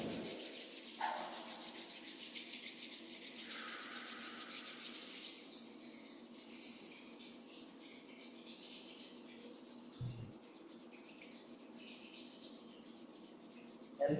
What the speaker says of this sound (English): Rubbing the palms together, maybe massaging one hand with the other.